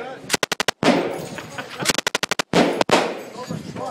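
A fully automatic machine gun fires short bursts at a range, sharp rapid cracks in quick clusters separated by gaps, loud and close, with a voice speaking briefly between bursts.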